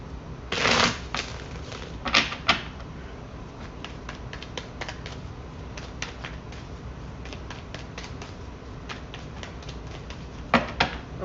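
Crisp riffling bursts of tarot cards being shuffled, a few loud flurries at the start and end with lighter scattered flicks between, close by with no talk.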